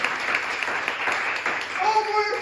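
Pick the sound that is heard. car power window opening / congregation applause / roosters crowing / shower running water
congregation applause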